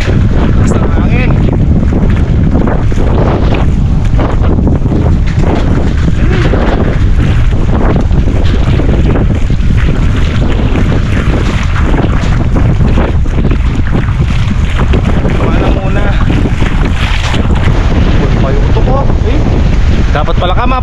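Strong wind roars and buffets the microphone outdoors at a rural farm during rainy weather, a loud, unbroken rushing blast that swamps everything else for the whole stretch.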